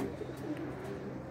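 Domestic pigeons, a red-and-white hen and her mate in a home loft, coo softly with low, rolling purrs through a steady murmur of background noise.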